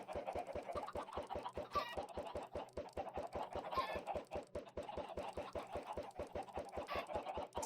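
Minecraft chickens cluck continuously in a dense, rapid rhythm after thrown eggs hatch, many soft clucks overlapping at moderate volume with no talk.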